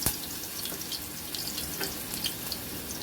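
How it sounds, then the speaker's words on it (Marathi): Green chili paste frying over low heat in two spoons of hot oil, a faint, steady hiss with a few soft clinks and scrapes of stirring. "आता आपण जे हिरवी मिरचीचं वाटण टाकलं होतं ते घालायचं आहे."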